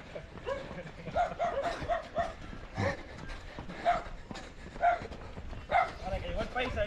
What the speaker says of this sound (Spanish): ahí está el perro